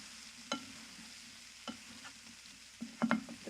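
Diced bell peppers and soft potatoes stirred in a frying pan, a faint low sizzle punctuated by several distinct scraping strokes and clacks of a utensil, closer and busier toward the end, no speech.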